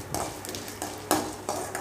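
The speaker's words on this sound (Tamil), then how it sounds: "கோல்டன் ப்ரௌன் ஆகிற வரைக்கும் நம்ம அதை தாளித்து விட்டுக்கலாம்." Vegetables sizzling and being stirred in a pan until golden brown, soft continuous frying hiss with a few scraping stir strokes, faint and close, no talk.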